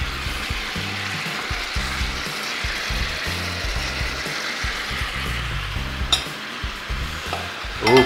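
Diced green and red peppers and onions fry in a paella pan with a continuous loud sizzle, under a busy rhythmic scraping of a utensil stirring across the metal and a couple of sharper clanks near the end.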